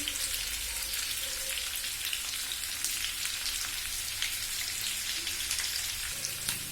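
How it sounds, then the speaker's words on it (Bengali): Potatoes fry for aloor dum in a pan, giving a faint, steady crackling sizzle that sounds soft and somewhat distant, with no talking over it. "আলুটা ভাজা ভাজা হয় ততক্ষণে ময়দার লেচিগুলো করে নিই"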